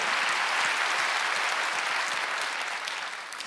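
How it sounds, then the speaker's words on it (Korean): Congregation applauding during a Wednesday church service, a dense, steady wash of many hands clapping that stays loud throughout and tapers slightly near the end. "박수."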